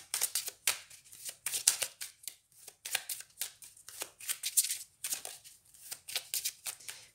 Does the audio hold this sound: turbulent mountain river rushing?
no